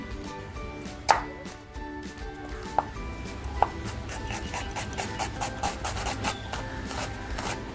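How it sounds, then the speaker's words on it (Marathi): A knife finely chops one onion and one tomato on a wooden board for a surmai fish thali, with a few sharp, separate knocks over a steady background hiss. "एक कांदा आणि एक टॅमॅटो घेतला आहे तो अगदी बारीक कापून घेते"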